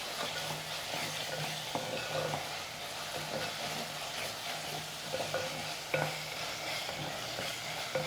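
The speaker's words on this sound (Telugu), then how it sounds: "మన గరం మసాలా బాగా వేపుకోవాలన్నమాట." Garam masala with turmeric and salt frying in a pan, a soft continuous sizzle broken by scraping strokes of a spoon stirring the spices, close by with no talking.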